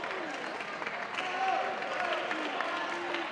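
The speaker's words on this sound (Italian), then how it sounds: "un forte applauso, forza." A crowd applauds steadily at a Juve Stabia youth-sector Christmas greeting event, a dense, even clapping that fills the room, with some voices mixed in.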